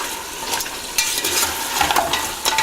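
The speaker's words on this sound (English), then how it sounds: "You have to keep stirring the spices" Spices frying with yogurt in a pan for hing rogan josh are stirred, producing a close sizzle broken by bursts of spoon scraping and clinks.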